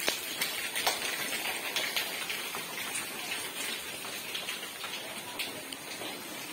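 Steady rain pattering on a surface, a dense continuous hiss of drops with no voices, even and fairly close throughout.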